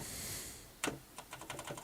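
A few quiet keystrokes tap on an Apple II clone computer keyboard with faulty, wobbly keys: one sharp press followed by a short run of lighter clicks.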